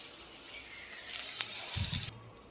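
Okra and potatoes fry in hot oil, giving a steady, close hiss of sizzling that runs for a couple of seconds with a few louder pops, then quickly drops away.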